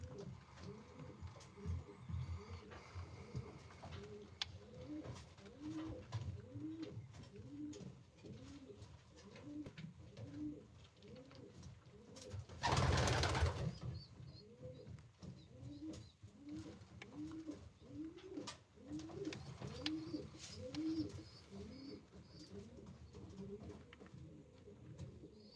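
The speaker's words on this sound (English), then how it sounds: "So you brought you just regular old street pigeons?" Street pigeons in a breeder loft coo in steady, repeated rhythmic phrases, a soft continuous chorus from several birds, with one brief louder rustle or flutter midway through.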